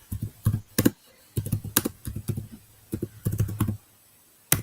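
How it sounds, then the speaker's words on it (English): Someone types on a computer keyboard in quick bursts of close, crisp key clicks separated by short pauses, with no talking. "He's typing something."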